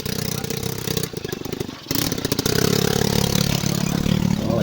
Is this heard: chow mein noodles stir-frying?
no